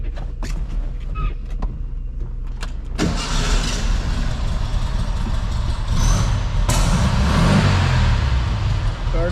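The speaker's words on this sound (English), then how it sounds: "Let's do a cold start for you." A 1961 Porsche 356 notchback is started cold, its engine catching partway through with a loud bang and settling into a steady, rumbling idle close by, with no talk over it.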